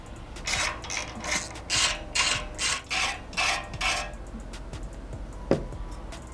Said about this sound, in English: So with a T30, let's remove the 3 bolts on each side that hold these on.